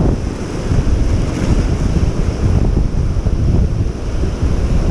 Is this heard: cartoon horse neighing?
no